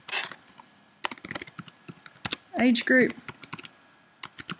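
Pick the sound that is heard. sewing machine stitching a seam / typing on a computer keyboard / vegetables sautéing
typing on a computer keyboard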